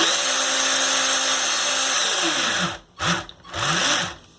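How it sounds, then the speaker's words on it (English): A Lego Technic Porsche 911 drivetrain, lubricated in the rear, spins at high RPM with a loud steady electric-motor whine that holds, then drops in pitch and cuts out before two short revving bursts. "I added some lubricant to the rear drivetrain because of the high RPM it's spinning at"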